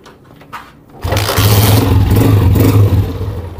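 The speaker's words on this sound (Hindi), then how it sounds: "टाइम को बचाते हुए मोटर बाइक को स्टार्ट करेंगे, स्टार्ट करके फाइनली अब इसकी जो आरपीएम है वो आरपीएम एक मरतबा चेक करते हैं" A Honda CG125 motorbike engine is started after a second of quiet rattling and then settles into a loud, steady, close running thump that holds for the rest of the clip.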